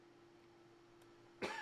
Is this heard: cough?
yes